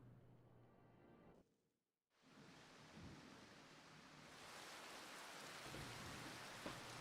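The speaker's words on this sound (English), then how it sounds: "the rain sounds nice" Steady rain pours in a Final Fantasy XIV scene, a broad hiss that drops out briefly near two seconds, returns and swells slightly louder toward the end, with a faint distant rumble underneath.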